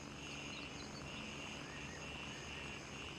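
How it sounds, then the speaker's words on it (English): Enemy helicopters in the military shooter Gray Zone Warfare make a continuous faint rotor drone with steady engine hum, distant and unbroken, with no speech. "I must be hearing some enemy choppers."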